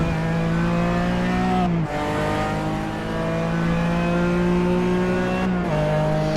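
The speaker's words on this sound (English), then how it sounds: "you can hear his shifts sound much smoother" RUF race car engine in the iRacing sim at Daytona, a loud, continuous racing drone that climbs in pitch and drops sharply at two gear shifts, then climbs again with no voices over it.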